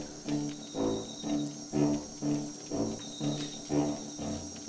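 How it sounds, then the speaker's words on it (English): A cricket creature in the video game Empires of the Undergrowth, its chirps pulsing steadily about every half second, alone and moderately quiet. "Oh, it's one of those crickets."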